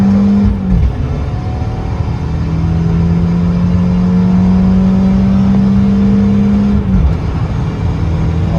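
A Fiat 500 Abarth Stage 1 in sport mode accelerates hard, its engine note climbing steadily with a brief dip and jolt near the start and again near the end as the gearbox shifts; loud and continuous from inside the car.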